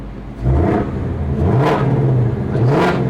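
A Mustang engine with an X-pipe exhaust revs loudly and close, a deep throaty exhaust roar rising and falling in a few swells.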